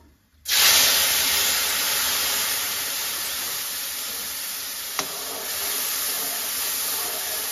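A sudden loud hiss as spices hit hot oil, then a steady intense sizzle that continues, with one faint tap partway through.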